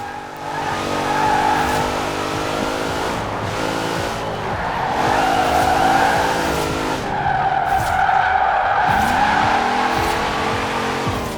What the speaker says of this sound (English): Oh yeah, burn those tires.